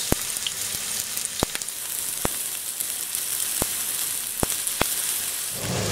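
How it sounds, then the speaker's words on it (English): Sliced onions sizzle steadily in hot olive oil in a pan, a loud continuous crackling hiss with occasional sharp pops, no talking. "You can hear that nice sizzle."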